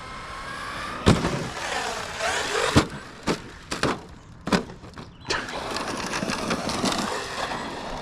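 An Arrma Mojave 4S RC car running on 5S power whines with its motor revving, broken by several loud thuds and crashes as it lands jumps, outdoors and fairly near.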